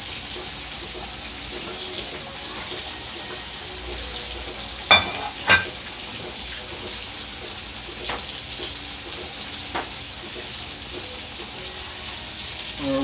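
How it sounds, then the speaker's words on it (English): Chicken frying in a pan gives a steady, moderate sizzle throughout, with a few brief clicks and taps of cookware. "Now we got our chicken frying."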